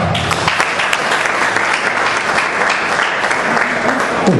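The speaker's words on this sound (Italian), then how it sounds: "un bel applauso lo dedichiamo" Loud, dense audience applause for a singer of Sardinian traditional song at a memorial concert in Sassari. It is sustained and continuous throughout, with no talk over it.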